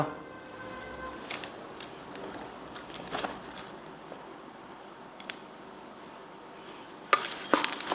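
Turmeric powder is stirred into a moringa pickle, giving soft moist squishing and scraping strokes with occasional sharper clicks of a spoon against the container, fairly quiet and close.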